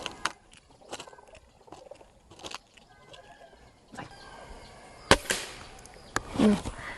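Gamo Swarm Fusion Gen 2 air rifle firing at a target, giving a few sharp, separated shot reports against a quiet background, with a louder crack near the end.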